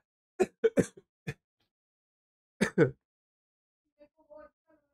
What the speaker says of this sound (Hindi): अगर खांसी की आवाज आ रही हो